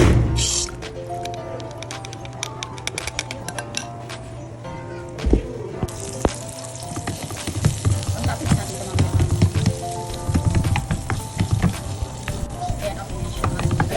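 Pork liver soaked in cola being drained, wet squishing and dripping with liquid splashes and handling clatter, fairly close and busy, no clear speech.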